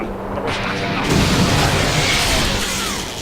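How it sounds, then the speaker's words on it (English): Turrets blow up in the Freedom Force video game with a loud, sustained rumble of booming blasts. Several bursts overlap and roll on for about three seconds, dense and continuous with no pauses. "blowing up the turrets creates further explosions in other parts of the base"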